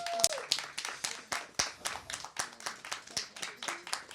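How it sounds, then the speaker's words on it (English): Audience at an open mic night clapping steadily in a room, a dense run of quick hand claps with a faint voice or two underneath. "we're going to keep clapping till you get up here"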